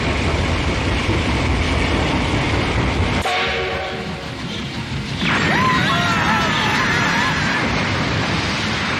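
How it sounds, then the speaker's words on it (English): Chiptune-style train sound from the Shining Force game: a sudden jolt and clatter of carriages starting off, then rumbling movement with a rising whistling horn tone over it. "Don't touch it or the train will start to move."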